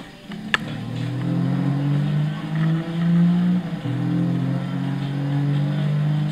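A 2006 Infiniti G35 Coupé with its 3.5-litre 24-valve VQ V6 roars loudly in Gran Turismo 6 from the cockpit view on Monza's 1980s layout. The engine note holds steady, swells, then dips briefly as it shifts before climbing again.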